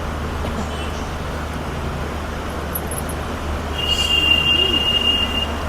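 A train passes through a railway station in heavy rain, giving a continuous loud rolling rumble, and a thin high-pitched wheel squeal rises near the end.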